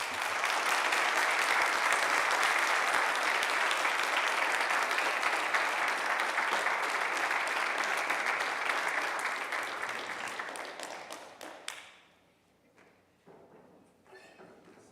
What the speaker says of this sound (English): Another round of applause for Dr. Carmen Renee Green